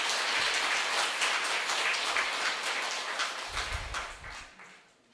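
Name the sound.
congregation applause opening a family worship service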